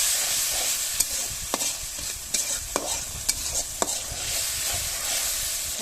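A spice masala sizzles and fries steadily in a pan with chilli and salt, while a utensil scrapes and knocks against the pan every half second or so, producing sharp, distinct clicks over the continuous hiss.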